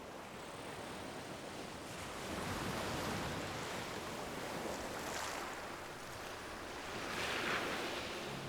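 Steady surf rolls in along the southern shore of a great inland sea, a broad continuous wash of breaking waves with slow swells in loudness and a soft wind hiss, no voices present.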